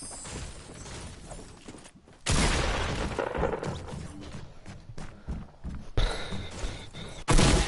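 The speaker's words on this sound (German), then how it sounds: "Ich finde das Explosion von der Raketen davon so groß, Mann." Rocket explosions in the Fortnite video game, loud booming bursts with crackling debris, one heavy blast around the middle and another sharp burst near the end over a busy game background.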